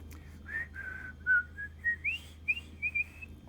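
A person whistles a simple melody, a march tune, in short separate notes, quiet and thin over a low steady hum.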